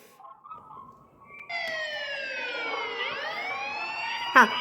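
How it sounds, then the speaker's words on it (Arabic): A police siren wails in steady rising and falling sweeps, loud and close, starting after a brief murmur of background noise. "صوت الشرطة"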